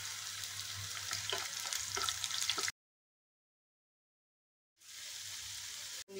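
Chana dal, chillies and garlic fry in hot oil for an amaranth leaf stir-fry, giving a close, steady sizzle with faint crackles that cuts out to silence for about two seconds before resuming.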